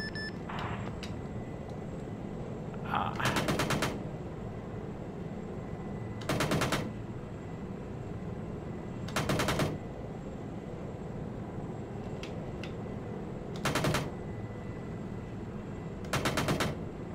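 An Apache helicopter opening fire on an MRAP during ground support, its cannon ripping out five short, loud bursts spaced a few seconds apart over a steady rotor and engine drone.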